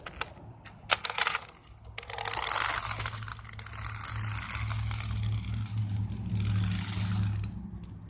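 A cheap twenty-dollar toy RC car in poor condition clicks and rattles in a few sharp bursts, then its small electric motor whines with a buzzing, wavering drone that continues at moderate volume.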